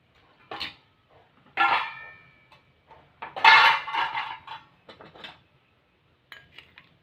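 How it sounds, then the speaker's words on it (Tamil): Mustard seeds spluttering in hot oil while tempering for lemon rice: a handful of sharp, separate pops and crackles spaced across a quiet background, close and fairly clear. "கடுகு பொரியுது."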